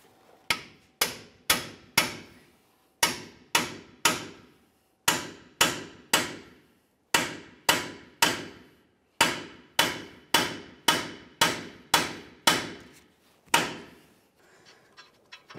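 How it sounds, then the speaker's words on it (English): Loud, sharp metallic hammer blows on a pickle fork at a 2005-2010 Dodge Dakota lower ball joint ring out in quick bursts of three or four, repeated many times close up with brief pauses between groups. "Use our hammer, give it a couple bonks to break it free."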